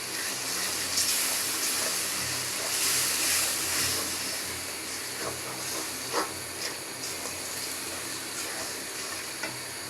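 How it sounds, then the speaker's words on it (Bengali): Onions fry in a pan for chicken kosha, giving a continuous moderate hiss with scattered soft crackles and pops. "এই যে পেঁয়াজটা ভাজা নিচ্ছি।"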